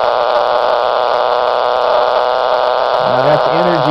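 A Bedini SSG motor with a window coil hums and hisses steadily through a radio, its tone lifting slightly toward the end as rising pitched whines appear, with no talking.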